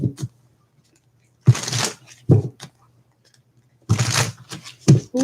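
Tarot cards are shuffled in a few short crisp riffling bursts, close and clear, separated by pauses with a faint low hum underneath.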